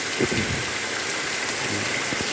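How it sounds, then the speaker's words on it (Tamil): Heavy rain falls steadily in a Tamil-speaking village, a dense continuous hiss of drops on surfaces, close and even, with faint low rumbles underneath and no voices. "நல்ல மழை பெய்யுது"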